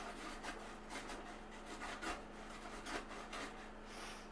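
Rhythmic rasping strokes of food being grated on a box grater, quiet and close, repeating about once a second with no talking.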